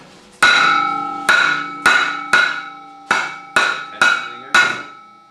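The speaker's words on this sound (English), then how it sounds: "we probably don't need this big a hammer, but I had it handy" A big hammer strikes repeatedly to knock the clutch shaft out of a Ski-Doo 800 etec, eight sharp, ringing metallic blows spaced unevenly, each decaying with a clear tone, loud and close.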